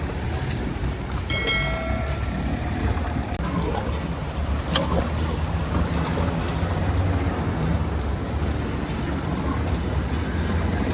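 Small boat riding on open water beside a larger vessel, with a steady motor rumble and sloshing water noise throughout, plus a few brief clanks.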